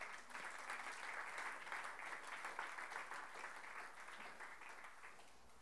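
Church congregation applauding together, a broad, even roar of many hands clapping that holds steady for several seconds and eases slightly toward the end, heard from within the room.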